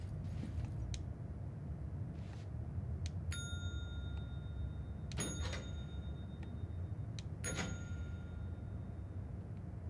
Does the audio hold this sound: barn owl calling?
no